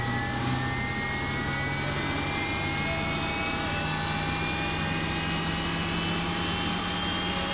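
Simulated jet engines on an Airbus A330 in a flight simulator game run with a steady, loud whine and rising tonal hum, continuous and even throughout.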